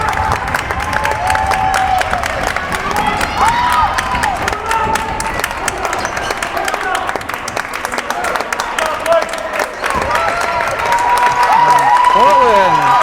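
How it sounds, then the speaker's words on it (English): A cheering section at a high school girls' varsity basketball game between Portland High and Massabesic claps, shouts and whoops as the game ends, with voices talking through the continuous crowd noise. "the cheering section is very happy here"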